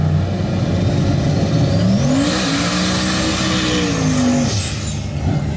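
A fifth-generation Camaro revs up loudly close by, the engine note climbing and holding high before dropping away, with road and tire noise underneath.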